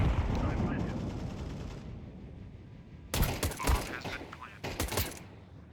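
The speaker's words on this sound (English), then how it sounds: "he's kind of shooting, spamming random things" Counter-Strike gunfire crackles in sharp bursts over a steady game background, with two louder clusters of rapid shots near the end.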